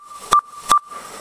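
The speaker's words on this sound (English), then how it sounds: "here's the same frequency just generated as a sine wave from a computer." A computer-generated pure sine wave tone holds at one steady pitch, cut by two quick clicks or bursts and heard alone.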